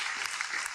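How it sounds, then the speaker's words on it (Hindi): Steady, dense applause from a live audience at a Hindi poetry recitation, continuous and fairly loud throughout with no voices over it. "हर एक बार तालियां और घनीभूत हो"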